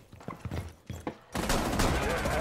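Pistol fire in a first-person shooter game: a few sharp separate shots up front, then a dense, loud burst of rapid gunfire that continues to the end, with a voice briefly audible early on.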